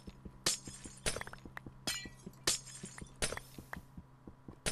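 Glowstone blocks breaking in Minecraft, a series of sharp glassy shattering crashes roughly every second, each with a bright tinkling tail, over a steady pattern of soft rhythmic ticks and thumps.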